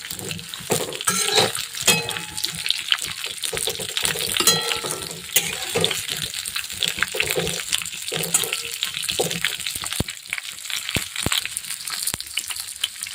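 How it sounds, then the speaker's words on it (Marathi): Stuffed okra (bhindi) masala frying in oil in a pan, a steady crackling sizzle with intermittent scraping and stirring clicks, loud and close throughout. "अशा प्रकारे छान पाच मिनिटं फ्राय करून घ्यायची"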